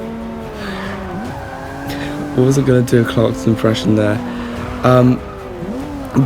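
A car in the Forza racing game revs and shifts through rising engine tones, its tires squealing in several sharp bursts mid-stretch, while someone talks over it.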